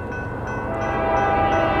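A BNSF freight train passes close with its horn sounding, a loud sustained multi-tone blast over rumbling wheels and rail noise, growing slightly louder.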